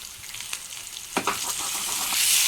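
Ponnaganti greens being stir-fried in a hot pan, a close, crackling sizzle with sharp scraping strokes of the spatula that grow louder and hiss more toward the end, no voices.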